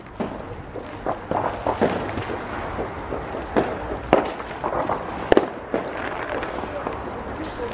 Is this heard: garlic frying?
no